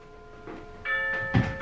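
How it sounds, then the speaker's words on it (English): A house clock chimes like a doorbell, with sustained bell-like tones ringing out over about a second, followed by a louder struck note near the end, fairly close in a quiet room. "By the way, that is not our doorbell"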